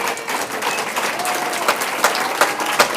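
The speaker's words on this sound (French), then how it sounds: "vraiment applaudissez-la s'il vous plaît" Political rally audience in Manosque applauding Mathilde Panot, a dense, steady clapping crowd with a few sharper claps standing out toward the end, fairly close and loud.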